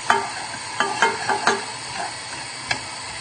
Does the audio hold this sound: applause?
no